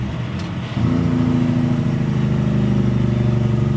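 A road train's truck engine drones loud and close, briefly drops, then picks up again at a new steady pitch as it shifts up a gear, and keeps pulling strongly.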